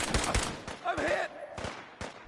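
Gunfire in Fallout 4 crackles in short bursts of shots, with a sharp cluster near the start and scattered reports later, mixed with game voice chatter and sound effects.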